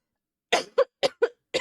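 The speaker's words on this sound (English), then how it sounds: "I'm sorry I'm coughing so bad." Five sharp coughs in quick succession, close and loud, with short pauses between them and silence before the first.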